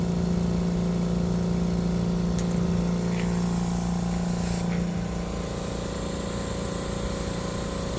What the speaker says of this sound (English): Getting some air in there.